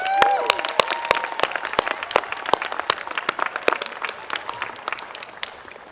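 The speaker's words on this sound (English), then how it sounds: "One more round of applause for Logan and the Dashers." Applause at a Somerville High School commencement for graduation performers: scattered, sparse hand claps from a crowd, loud at first and thinning out over several seconds, with no talk.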